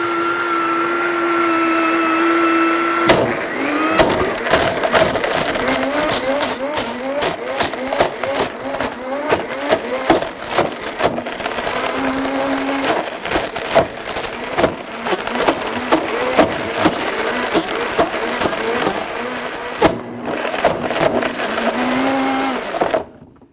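A Blendtec blender runs at full power while an object inside shatters, giving a constant loud motor roar pierced by dense rapid cracks and clattering bursts of debris that continue for over twenty seconds.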